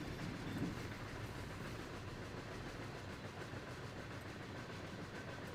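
A CSX freight train shoving backward down a yard ladder in the Run 8 train simulator, rolling steadily with a continuous low rumble and clickety-clack of wheels on rail joints, close and loud throughout with no talking.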